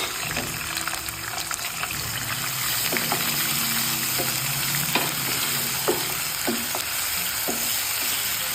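Onion, ginger and garlic paste hitting hot oil in a pan for chicken korma, a continuous loud hiss of frying with a few soft knocks of a spoon against the pan.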